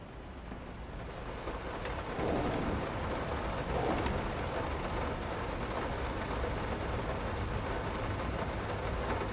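Rain and thunder ambience from the horror video game Layers of Fear: dense steady rainfall hissing throughout, with a low rumble of thunder swelling after the first couple of seconds, no voices.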